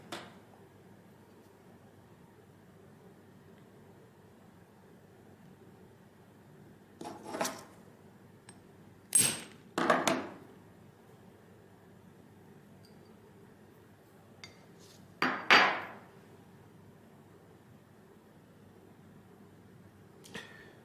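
Sharp metallic strikes of a punch hammered into a gold coin come in brief clusters, a couple of single hits and then doubled blows, each ringing bright against a quiet background with no talking.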